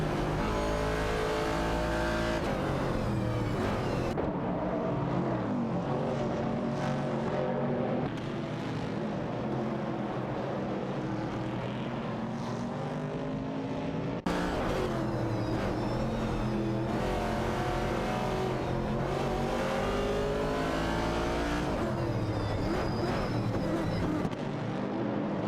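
Ford race cars in AI racing, including a Ford Falcon, roar around a track with steady, loud engine drone, rising and falling revs and pass-bys throughout, with no voices.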